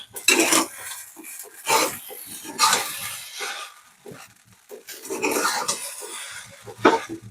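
Khichdi stirred in a pot over a raised flame, a series of scraping and clinking strokes of a spoon against the pot in uneven bursts, close and fairly loud, with short quiet gaps between.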